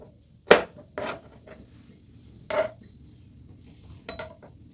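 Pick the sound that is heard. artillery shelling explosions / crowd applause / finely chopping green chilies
finely chopping green chilies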